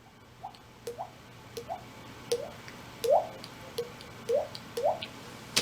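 A foley artist imitates water drops with the body, producing a series of about a dozen short, hollow plinking pops in an irregular rhythm, close and fairly quiet against a faint low hum.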